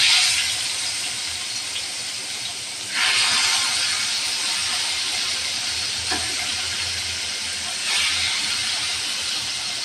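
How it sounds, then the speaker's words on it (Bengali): Fish slid into hot oil in a pan gives a loud, continuous frying hiss and sizzle, swelling at moments as pieces settle, close and steady without talk. "তেল গরম হয়ে গেছে, দিয়ে দেবো মাছ।"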